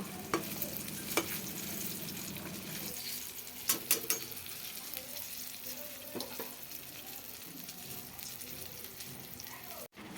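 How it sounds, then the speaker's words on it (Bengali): Eggplant slices fry in hot oil with a soft, steady sizzle, broken by a few sharp clinks and scrapes of a utensil against the pan. "বেগুন ভাজাটা বসিয়ে দিয়েছি। বেগুনগুলো প্রায় ভাজাই হয়ে গেছে"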